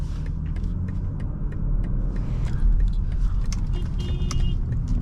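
A 2021 BMW X5 xDrive40i turns tightly, its engine a low steady rumble with road and cabin noise, faint ticking and rattles over the top, no talk.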